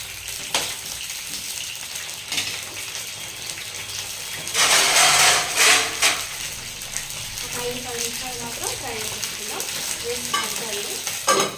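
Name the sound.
frying cut brinjals in oil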